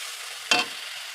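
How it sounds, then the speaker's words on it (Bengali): Potatoes fry in a pan with a soft, steady sizzling hiss, broken by one brief louder burst as they are stirred or shifted, no voices. "কি আলু ভাজছি।"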